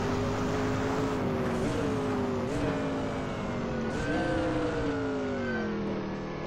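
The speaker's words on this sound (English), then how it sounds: "It sounds great. Absolute monster of a car." A Mercedes Sauber C9 race car in the Assetto Corsa racing game, its engine revving hard and climbing through repeated upshifts, the pitch rising, dropping briefly at each shift, then climbing again. The sound is steady and moderately loud, with no speech.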